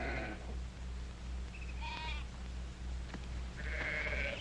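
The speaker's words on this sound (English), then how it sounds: "help me get those sheep on the move" A flock of sheep being driven bleats in a western TV drama, with a few scattered calls and then a louder chorus near the end over steady low background noise.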